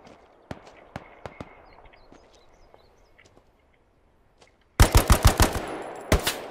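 Gunfire in the WWII shooter Hell Let Loose, scattered distant single shots and faint bird-like chirps, then a sudden loud close burst of rapid rifle or machine-gun fire near the end.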